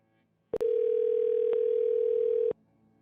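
A telephone dial tone sounds while a guest is being called: a brief click, then one steady, loud, unbroken tone for about two seconds before it cuts off into near silence.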